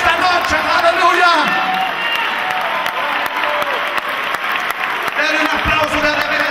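Church congregation clapping together at a sermon, a dense sustained wash of applause while a loud voice shouts over it.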